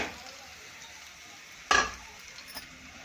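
Tomatoes drop into a sizzling Gujarati vaghar tempering, giving one loud burst of hiss and clatter over a low, steady frying background. A faint voice is present.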